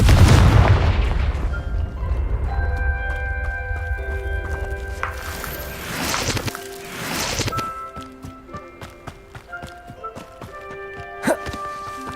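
A Confringo spell explodes in Hogwarts Legacy with a loud, deep boom that fades into crackling debris and scattered impacts, followed by lighter game sounds and thuds.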